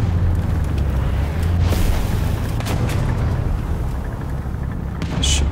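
Artillery shells explode around a Vickers Mk.E tank in War Thunder ground battles, a deep continuous rumbling roar with a few sharper booms, loud and close over engine drone.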